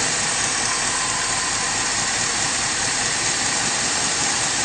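Truck engine running on woodgas from a smaller gasifier unit, idling as a steady, dense, unbroken rumble with broadband noise and no change in pace, close and fairly loud.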